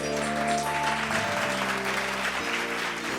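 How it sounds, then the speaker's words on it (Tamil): A church congregation gathered for a Tamil sermon claps together in a steady, dense burst lasting a few seconds, with a sustained musical tone underneath and no talking over it. "கைத்தட்டுங்க."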